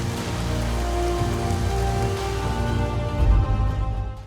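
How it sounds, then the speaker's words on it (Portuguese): Simulated rain on Saturn's moon Titan pours down steadily and densely, a continuous hiss of drops striking a surface, with sustained low tones humming underneath and no speech. "Seria bem legal andar na chuva aqui."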